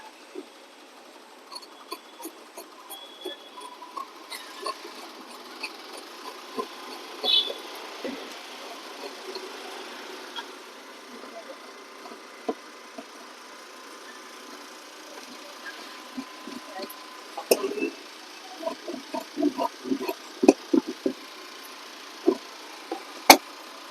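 Scissors cut cloth for a size 32 princess-cut blouse at a tailoring table, starting with faint scattered snips over a low background hum and building to a denser run of crisp, close snips near the end.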